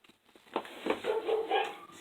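A dog lets out a short, whiny bark and yelp, faint and somewhat distant indoors, rising into a brief strained vocalization.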